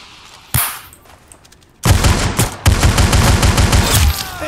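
Rapid bursts of game gunfire in Roblox Arsenal: a single sharp shot, then dense automatic fire that continues loud and close until the end.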